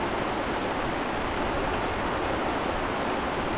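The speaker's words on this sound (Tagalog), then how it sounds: "Umuulan po, malamig." Steady rain falls in an even, soft hiss, constant throughout with no voices.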